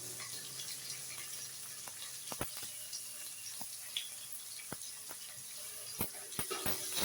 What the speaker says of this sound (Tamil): கொஞ்சம் வெங்காயம் வந்து நல்லா வதங்கி வரட்டும்